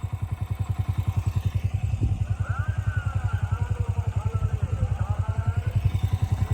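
A scooter engine runs close by at night at a desert fair, Nurpur Thal mela, with a steady, rapid putter that holds an even pulse throughout and no voices over it.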